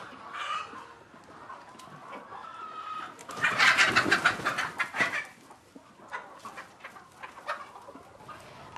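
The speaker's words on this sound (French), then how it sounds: "écoute et observe les poules" Hens cluck in a poultry house on a farm in Senegal, with scattered calls near and far and a louder burst of clucking midway. No one speaks over the birds.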